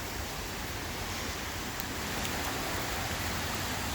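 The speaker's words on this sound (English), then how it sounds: "And I think it's raining again, so let's go back inside." Steady outdoor rain falls near a clogged pipe intake for an on-site hydro system, making an even, continuous hiss of rainfall throughout with no voices.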